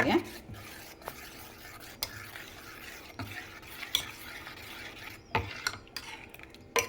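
Spoon stirring mashed potato and peas into pani puri masala in a pot, steady wet scraping with repeated sharp clicks of the spoon against the metal rim, close up over a low sizzle.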